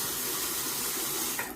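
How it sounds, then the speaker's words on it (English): Tap water runs steadily and close up into a sink to wet a Schick Platinum double-edge safety razor, a continuous hiss with a brief change as the razor passes under the stream. "I'm going to go ahead and wet the razor here."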